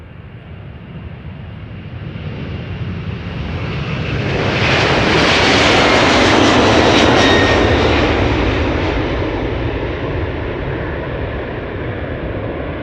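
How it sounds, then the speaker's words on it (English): A 32-year-old United Airlines jet airliner, first flown in August 1993, moves past at Amsterdam Schiphol Airport, its engine roar swelling loud and near toward the middle, then easing off, heard alone. "United Airlines Flight 908 is moving, 32 years old, first flight August 1993"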